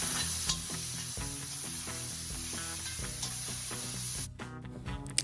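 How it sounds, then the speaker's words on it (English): Curry leaves and masala sauté in a pan for a spicy tamarind chicken fry, giving a steady sizzle under repeated stirring scrapes and clinks. The sound is close and busy, and the sizzle thins out near the end. "add the special masala and cook it till the raw smell leaves"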